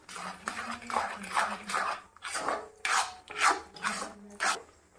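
A spoon scrapes and stirs grated coconut into thick lotus seed halva in a pan, giving repeated rough rasping strokes in an uneven rhythm, close and fairly soft.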